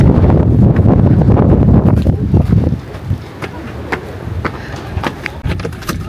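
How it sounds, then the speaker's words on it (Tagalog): Heavy, cold wind buffeting the microphone outdoors in Waterton townsite, loud rumbling gusts that ease partway through, leaving scattered knocks and rustles. "Pero ang hangin na yan."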